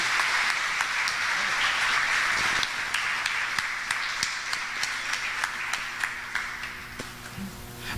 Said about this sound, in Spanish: Si quieres, darle un aplauso al Señor.